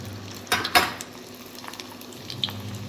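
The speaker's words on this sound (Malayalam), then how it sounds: "ആദ്യം നമുക്ക് ഇഞ്ചി വറുത്ത് കോരാം." Pieces of ginger fry in a generous amount of hot oil in a pan, a steady close sizzle broken by a couple of louder bursts and clinks of a stirring utensil near the start.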